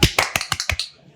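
A film sound effect blends a mouth-made tingling sound with sharp claps, heard as six quick, evenly spaced close snaps over about a second, then a soft fading tail.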